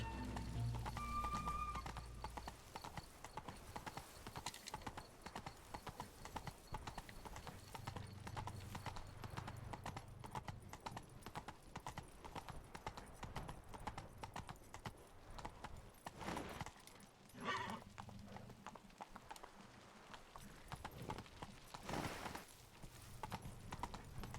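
Horse hooves clip-clopping in The Witcher 3 video game, a steady trotting rhythm of hoofbeats with an occasional whinny, continuous and fairly close over game ambience.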